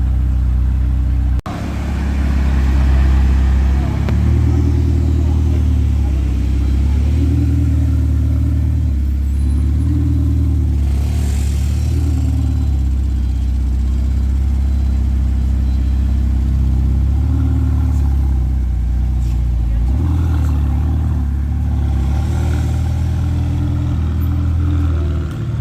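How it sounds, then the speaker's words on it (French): A Bugatti Chiron's engine rumbles deep and loud throughout, rising and falling as it revs and pulls away on a street in Cannes, with no one speaking. "Bon bah du coup on a la Chiron en action."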